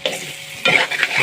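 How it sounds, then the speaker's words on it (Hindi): A utensil stirs egg into potatoes frying in a pan, scraping and clattering in short bursts over a steady sizzle, close and fairly loud. "हम एक बार इसको करेंगे ऐसे मिक्स"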